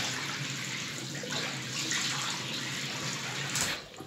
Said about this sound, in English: I'm just going to wet my face.